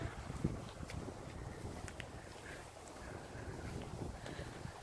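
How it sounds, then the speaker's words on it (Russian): Wind buffets the microphone at a picnic in Izmir, Turkey, in a constant low rumbling roar, with faint distant sounds of activity underneath. "Хорошая погода, но немножко ветер."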